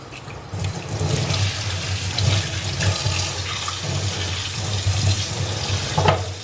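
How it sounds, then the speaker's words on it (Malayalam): Tap water runs steadily into a kitchen sink as it is rinsed after scrubbing, a continuous close splashing rush with small shifts as the stream hits the basin, no voices. "ഇനി നമുക്ക് വെള്ളം ഉപയോഗിച്ച് കഴുകാം."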